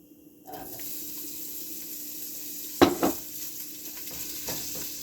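Chouriço sausage hitting a pan and beginning to fry, a sudden brief clatter and spatter burst followed by a soft steady sizzle, quiet and close with no talk.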